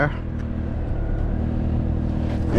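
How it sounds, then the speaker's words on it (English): A 2006 Toyota Corolla with a charging fault and stalling problem idles slightly high, a steady low engine rumble close by with a voice speaking over it. "Alright, now we're idling a little higher."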